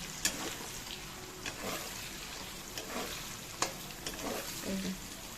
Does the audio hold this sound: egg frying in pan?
yes